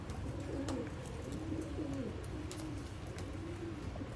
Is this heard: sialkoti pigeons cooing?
yes